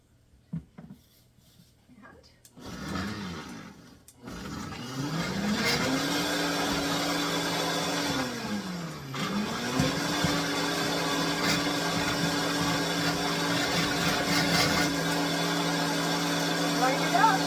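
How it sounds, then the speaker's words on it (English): A Vitamix blender grinds dried vegetables into powder, its motor whining up to a steady high pitch, dipping briefly, then climbing again into a loud, continuous roar after a few quiet seconds of handling. "So I just put it in my Vitamix."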